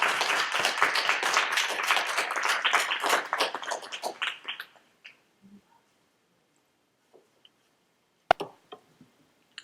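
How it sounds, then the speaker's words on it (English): Audience applause at a poetry open mic, a dense burst of clapping for about four seconds that fades into scattered, fainter claps and a few isolated taps in near silence. "Round of applause!"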